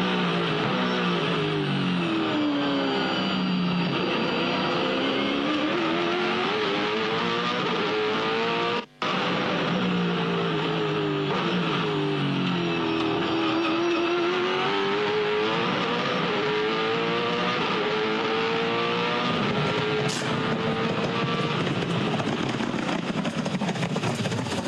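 A race car driven by Rick Kelly on an onboard lap, run down toward turn 2 under trees. The engine roars loud and continuous, rising and falling through gear changes, with one brief cut partway.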